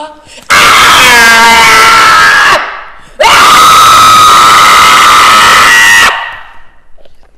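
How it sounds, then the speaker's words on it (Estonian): In an Estonian theatre rehearsal, a performer screams in two long, loud, strained bursts, the first about two seconds and the second close to three, separated by a brief pause, with room echo trailing each. "karju see välja"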